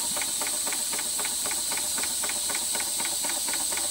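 A small Weeden Model 14 model steam engine runs on compressed air, chuffing in a quick, even rhythm over a steady hiss and a thin high whine.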